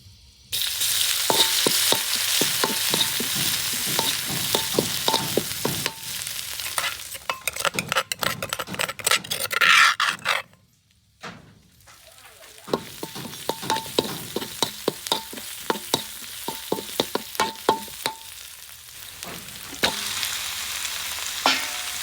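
Spicy field rat stir-fried in a pan, apparently outdoors by rice fields: steady close sizzling with rapid rhythmic spatula scrapes and clanks, a brief pause midway, then the stirring resumes.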